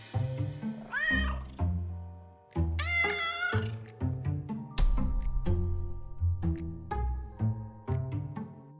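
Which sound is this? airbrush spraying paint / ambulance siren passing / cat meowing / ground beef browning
cat meowing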